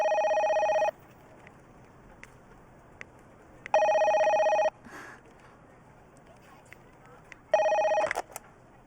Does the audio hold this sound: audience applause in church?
no